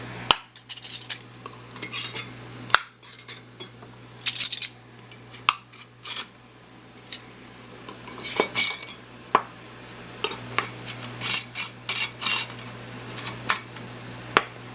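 Metal screw rings and lids are clattered and twisted onto hot canning jars of rhubarb juice, with repeated close clinks and scrapes of metal on glass in an uneven rhythm.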